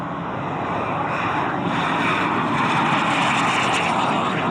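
A large airplane roars steadily as it takes off, a loud, sustained engine drone with a broad rushing tone that swells slightly toward the end, with no talk over it.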